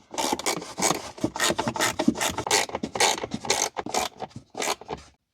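Small quarter-inch screwdriver backing out screws behind the windshield of a BMW during a speaker upgrade, a close run of rasping, ratcheting scrapes in short uneven bursts with brief pauses, no talking.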